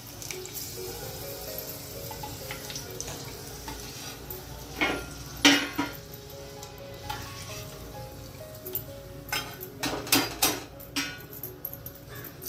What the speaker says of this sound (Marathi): तेल आता गरम झालं की नाही हे बघण्यासाठी मी वरून थोडंसं हे एक कांद्याचा तुकडा घालते